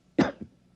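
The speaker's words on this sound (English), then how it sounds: "I'll cough twice, like this." A man coughs twice as a signal, one sharp cough followed by a softer second, close and isolated in a quiet room.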